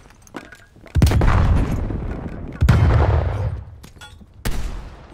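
Explosions and gunfire in the video game Call of Duty: Black Ops Cold War, with three heavy blasts that each decay into a rumbling tail, spaced about two seconds apart, loud and close.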